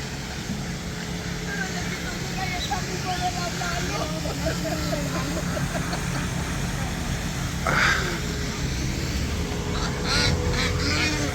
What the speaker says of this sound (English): Anywho, check out these ducks.